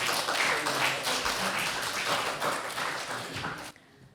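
An audience at a French eloquence competition applauds a speaker, giving dense, steady clapping for several seconds before it stops abruptly.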